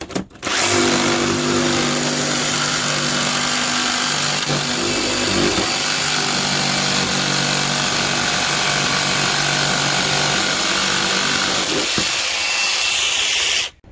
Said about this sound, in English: So I'll get the jigsaw and start cutting this out.